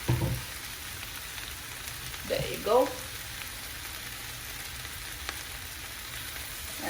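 Zucchini and mixed vegetables sizzle steadily in a pan with leftover rice, a constant frying hiss with a brief stir midway and a short spoken phrase.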